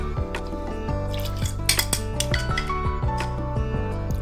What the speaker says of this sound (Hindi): अब हम इसमें कॉर्नफ्लोर डाल देंगे मिक्स करके, जो हमने दूध में मिक्स करके रखा था। थोड़ा थोड़ा डालते जाएंगे और चम्मच चलाते जाएंगे।